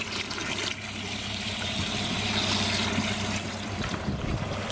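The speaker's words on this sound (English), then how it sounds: "start filling the tank, get the tank about half full" A water pump fills a fishing boat's livewell tank with a steady low trickling and gurgling flow under a faint motor hum, quiet and continuous with no voices.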